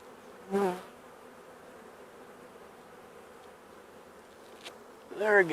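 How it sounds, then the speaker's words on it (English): Honey bees from a starter hive buzz steadily close by, a soft continuous drone with louder swells as bees pass near at the start and end. "See if I can get some of these bees up there."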